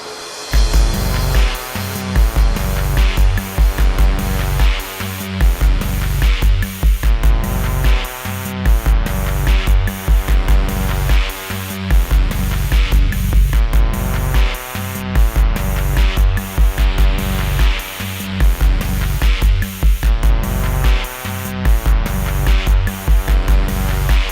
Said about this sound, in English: That's tape echo, and you can hear because it degrades over time.